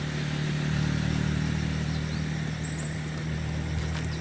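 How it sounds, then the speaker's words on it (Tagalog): A motorcycle on a forest road hums steadily nearby, its engine drone continuous over a few seconds with faint clatter and no talk. "Motor."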